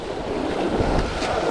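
A strong gust of wind sweeps across Salt Springs Reservoir, roaring as steady broadband rumble and buffeting the microphone, loud and close, with water noise mixed in and no voices.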